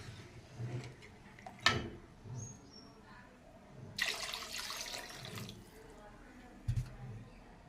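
Water poured into a pot of simmering curry, a short splashy gush in the middle among quieter kitchen clatter and a few faint drips.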